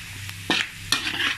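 Shrimp seasoned with salt and turmeric sizzle in a hot pan for nasi goreng udang belacan, with a steady crackle broken by two sharp scraping stirs of a utensil against the pan.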